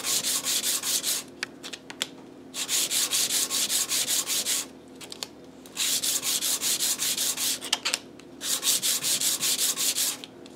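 A guitar nut is sanded with 120 grit sandpaper in quick back-and-forth strokes, giving close, rhythmic scratchy rasping that comes in several long bursts separated by short pauses.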